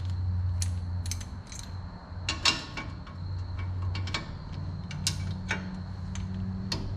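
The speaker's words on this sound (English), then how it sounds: "So, got my snap-on torque wrench, 30 foot-pounds." A Snap-on torque wrench set to 30 foot-pounds on a 2006 Trailblazer upper ball joint, heard as close, scattered ratcheting clicks and metallic ticks over a low steady hum, with no talking.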